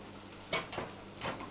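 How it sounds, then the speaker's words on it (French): Lamb sears in hot butter, making a faint, soft sizzle broken by a few quiet stirring or pan sounds. "Donc là, le beurre est bien chaud."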